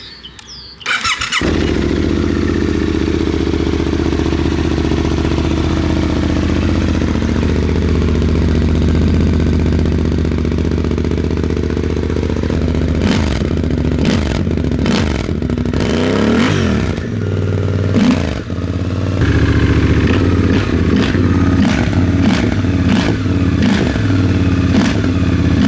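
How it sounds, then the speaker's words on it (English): A Suzuki V-Strom 800DE fitted with a Dominator header-back exhaust starts up and idles loud and close, a steady deep rumble, then several sharp throttle blips and revs in the second half. "we're gonna go ahead and start it, see what it sounds like"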